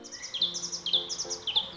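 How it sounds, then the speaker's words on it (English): Birds singing in a regenerating food forest, rapid bright chirps and trills repeating close by in quick bursts, with no talking. "Or maybe let the birds do that for me."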